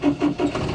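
A car engine with a weak battery cranks in three quick pulses, then catches and settles into a steady idle, close and fairly quiet.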